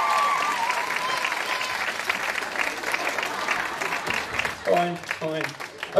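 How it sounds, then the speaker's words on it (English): A big round of applause from a school talent show audience, loud sustained crowd clapping with a few voices and a brief musical tone near the end. "So give Phil a big round of applause and leave the stage."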